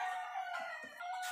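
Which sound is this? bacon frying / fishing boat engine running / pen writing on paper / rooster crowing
rooster crowing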